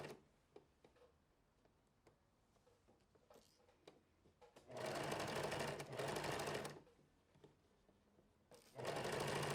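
A home sewing machine stitches a Connie sun top, with faint ticking and handling before two loud, fast whirring runs of stitching, a short pause, then a third run starting near the end; no talk.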